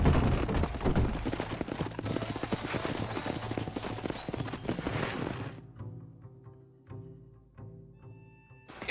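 Horses gallop hard in Red Dead Redemption, a dense, loud clatter of hooves over music that drops away to sparse, slowing hoofbeats and settling steps.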